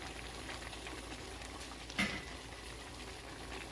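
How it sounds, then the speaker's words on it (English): Jamaican steamed fish simmering in a covered pot gives a soft, steady bubbling hiss, faint and close, with one brief louder pop midway. "Yep, it's simmering, people."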